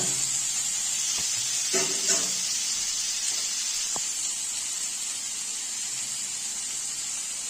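Potatoes being stirred and sautéed in a pan give a continuous, close hiss of sizzling with a few faint spoon scrapes and taps, no voices.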